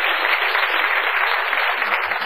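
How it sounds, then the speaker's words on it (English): Dense, steady applause from an audience at a talk, a continuous close wash of clapping filling the short moment without voices. "Give him a great round of applause,"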